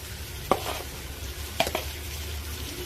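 Chopped chicken pieces drop into a pan with two sharp clattering bursts, then a steady sizzle and frying hiss continues underneath, close and fairly loud.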